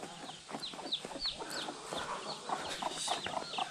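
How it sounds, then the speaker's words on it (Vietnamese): A flock of chickens clucks in a village of old stone houses in Cao Bang. Overlapping clucks and short calls come in quick succession at close range, over a quiet background. "có bầy gà"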